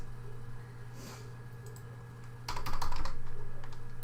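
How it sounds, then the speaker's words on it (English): Computer keyboard typing, a quiet patter of keystrokes that turns into a louder, faster run partway through, close by over a steady low hum. "we're going to type in our information"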